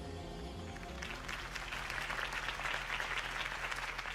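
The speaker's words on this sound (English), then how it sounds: "If only Mr. Wayne, my campaign's largest backer, could have heard that applause" A crowd applauds after a mayoral campaign speech in Batman: The Telltale Series, clapping building from a lingering musical tone into a full, dense ovation.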